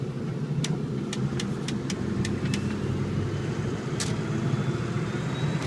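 A 2001 Ford F350 diesel pickup truck accelerating on a road, a steady loud low engine drone heard from inside the cab, with a few faint clicks over it.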